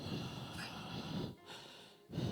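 A sleeping person snores in recurring loud, rough bursts, with a short quiet gap before the next snore begins near the end.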